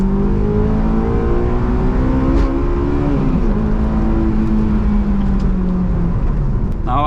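A Honda S2000 convertible driving, its engine drone loud and steady throughout with a rising and falling tone as it pulls, heard from close by on the road.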